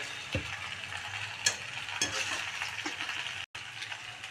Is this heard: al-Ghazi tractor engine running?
no